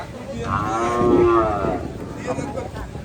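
A cow at a cattle market in Ashulia moos once, a long, loud, close low call lasting about a second, with crowd noise and murmuring voices in the background.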